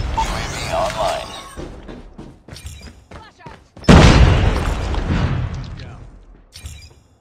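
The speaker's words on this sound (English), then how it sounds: "Friendly Predator missile inbound." A Predator missile explodes in the video game Call of Duty Mobile, a loud sudden boom that rolls out and fades, following quieter game noises and announcer-style voice callouts.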